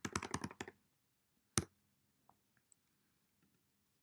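A quick burst of computer keyboard typing up front, several rapid close keystrokes, then a single sharp click and a few faint, scattered taps in a quiet room with no talking.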